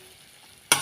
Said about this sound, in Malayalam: ഇതിലേക്ക് നമ്മൾ കുഞ്ഞുമത്തി ഇട്ട് കൊടുക്കാം.